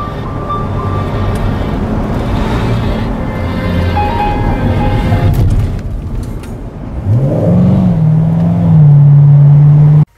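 A Chevrolet Corvette C7 with an electronic limited slip differential takes a turn and slides into oversteer, its loud engine roaring with wind buffeting before revving up sharply into a rising, sustained high drone near the end.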